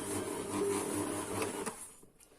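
A stand mixer kneads bread dough made with T45 pastry flour at speed 2, giving a steady whirring motor drone with a faint rhythmic thump that cuts off near the end.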